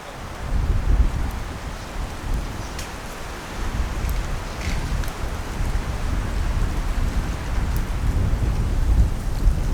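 Heavy rain falling steadily with thunder during a windy night storm, a loud continuous downpour with deep low rumbles swelling through, close and enveloping, no voices.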